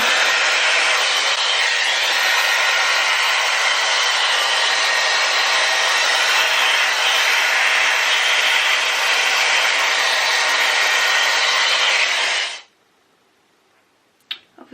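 A Dyson Airwrap hair styler blow-drying a bob: a loud, steady airy whoosh running continuously up close, then cutting off abruptly, followed by a couple of small clicks in near silence.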